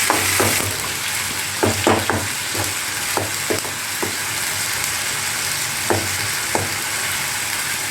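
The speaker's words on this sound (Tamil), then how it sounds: "ரசத்துக்கு அரைச்சி வச்சுட்டு இப்போ அதில் வதக்கணும்" Ground rasam paste for tomato rasam sizzles steadily in a hot pan, a constant close frying hiss. Occasional sharp scrapes and taps come from stirring, with no talking.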